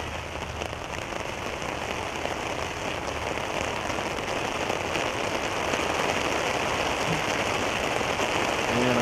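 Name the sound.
rain falling during outdoor soccer match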